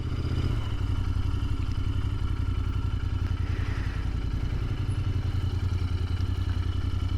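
A Royal Enfield Continental GT 650 twin-cylinder motorcycle idles close by while parking, a loud, steady, throbbing low putter with mechanical clatter that shifts slightly early on.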